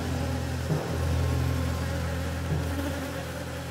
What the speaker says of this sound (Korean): 꿀벌은 일제히 날개를 파닥여 경계 행동을 합니다.